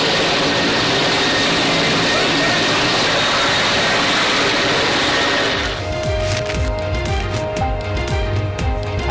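A helicopter hovers low over Lahoré's Gaddafi Stadium cricket ground to dry the wet field, a loud continuous rotor and engine roar that shifts to a rhythmic chopping beat partway through.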